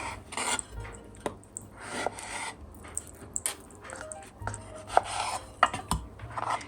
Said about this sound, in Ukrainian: Нарізаємо апельсин на ось такі шматочки.